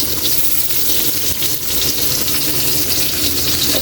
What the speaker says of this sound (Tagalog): Ilagay na natin Kayli ng ating bawang.